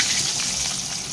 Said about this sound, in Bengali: আর এগুলো আরও একটু ভেজে নেব